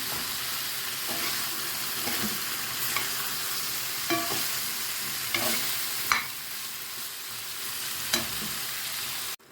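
Zucchini tipped into a hot frying pan for a rice and zucchini dish, sizzling steadily with several sharp clatters of stirring and scraping, close and without talk.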